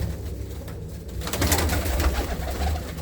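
Large pigeons in a loft keep up a close, dense cooing chorus, throaty calls overlapping steadily and swelling slightly halfway through, with no voices.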